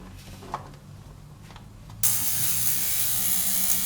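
Faint mechanical clicking at first, then an ultrasonic cleaner switches on, cleaning a watch bracelet, with a steady loud high-pitched hiss and hum that continues evenly to the end.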